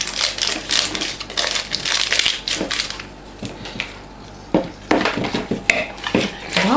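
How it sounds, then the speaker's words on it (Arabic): Flour being sifted through a small sieve for pancakes, with repeated close scratchy rattling and tapping bursts against a bowl, pausing briefly midway before resuming. "كنجيب واحد الصفايه ولا غربال صغيور المهم هكا باش كنحيدو داك الحبيبات اللي كيكونوا في الخماره"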